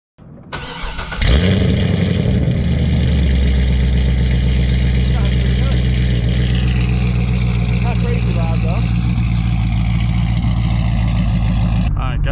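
A C6 Corvette V8 fitted with long tube headers fires up with a sharp burst, then settles into a loud, steady, rumbling idle that holds close for about ten seconds before cutting off, with a voice talking faintly underneath.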